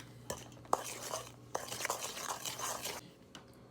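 An egg being mixed into chocolate chip cookie dough by hand, with bursts of wet, scraping stirring strokes in a bowl and a few light clicks between them.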